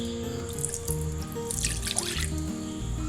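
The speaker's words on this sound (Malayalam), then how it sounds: "ഈ കള്ള് നമുക്ക് മിക്സിയുടെ ജാർ എന്തായാലും കഴുകി ഒഴിക്കണമല്ലോ" Homemade toddy pours into a mixer jar with a steady liquid trickle and dripping, heard up close with no voices over it.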